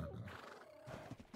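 A horse in the ARK video game gives a single faint whinny with a few light hoof clops, quiet and brief.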